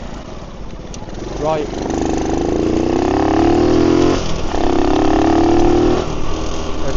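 A small monkey bike engine revs flat out in the wrong gear while riding around Norwich, a loud, strained steady drone that rises and dips, with someone briefly talking over it.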